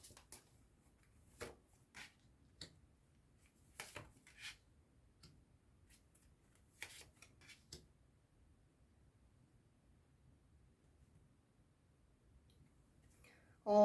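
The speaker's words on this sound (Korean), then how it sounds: "먼저 수호신의 10월 메시지 카드부터 뽑아보도록 할게요." Oracle message cards are handled and drawn during a monthly card reading, making soft, scattered clicks and brief shuffling flicks in a quiet room, with a louder rustle right at the end.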